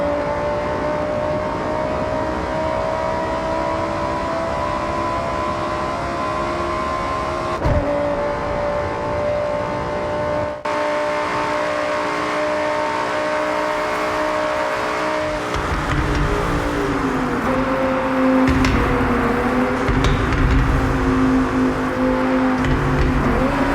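A Lamborghini Huracán engine revs and accelerates, its tone sweeping through the gears with audible shift breaks, growing louder and harsher toward the end as the car pulls hard.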